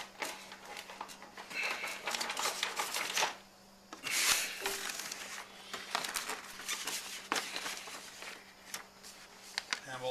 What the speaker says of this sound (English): Reach down below, and we'll slide the paper up in between the printer here.